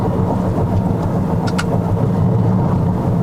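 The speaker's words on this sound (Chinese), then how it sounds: "我再试看它的降档，3000转降，哇哦，" A Toyota Corolla Sport 1.2T engine roaring steadily during a kick-down downshift from about 3000 rpm, heard loud from inside the cabin, with a brief sharper click partway through.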